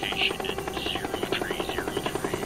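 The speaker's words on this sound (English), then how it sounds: "a medevac chopper is en route to take them to one of the 18 military hospitals in Vietnam" Medevac helicopter flying over Vietnam during the war, its rotor beating in a steady loud pulse with a droning whine, close and continuous throughout.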